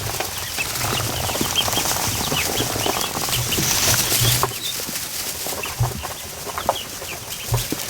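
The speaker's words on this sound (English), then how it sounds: "This batch of ducklings is a little more skittish than previous batches." Ducklings root and shuffle through fresh straw, making a busy, close rustle with soft peeps and chirps scattered throughout and a few sharper scratches and flutters near the end.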